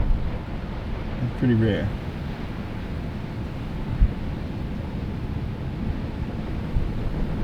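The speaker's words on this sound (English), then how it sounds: "Especially with this much wind." Strong wind buffets a microphone on the East Coast shoreline during a big winter swell, a constant roaring rumble with surf blended beneath it, and someone speaks briefly over it.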